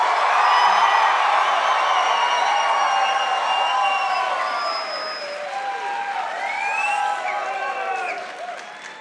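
Convocation crowd of graduating class cheering and applauding in a large hall, loud sustained clapping with whoops and shouts that gradually fade toward the end.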